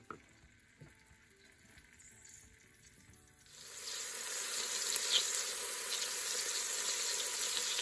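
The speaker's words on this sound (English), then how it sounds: "You can hear it sizzling." Diced ham hits hot oil in a Southern country-style kitchen. After a few seconds of quiet clicks and handling, a loud, steady crackling sizzle takes over and continues to the end.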